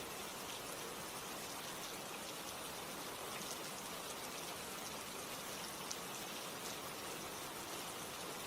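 Steady rain falls without a break, a dense hiss of drops on surfaces that stays even and fairly soft throughout, with no voices.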